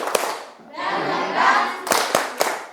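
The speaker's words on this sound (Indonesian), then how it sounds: "Tepuk semangat." A school class does a rhythmic tepuk semangat spirit clap, sharp group claps alternating with bursts of loud chanting voices, close and energetic.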